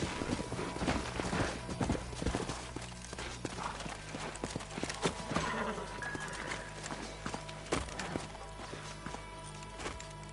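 Horse hooves clip-clop in a Red Dead game scene, a busy irregular patter of several steps layered over dense background game sound and music, steady and moderately loud throughout.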